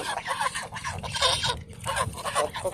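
Geese by a river in Kishoreganj call in a cluster of short nasal honks at close range, mixed with a faint voice.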